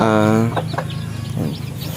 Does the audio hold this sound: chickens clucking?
yes